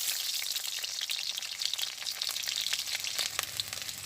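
Whole garlic cloves fry in a little extra oil in a kadai, giving a close, dense sizzle with crisp spitting pops throughout.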